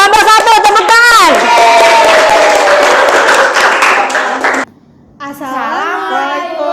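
Classroom audience at a teacher-training group presentation breaks into a burst of clapping and excited children's voices, dense and loud for a few seconds, then cuts off briefly before a voice starts talking.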